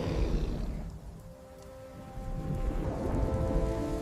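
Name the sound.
thunderstorm with rain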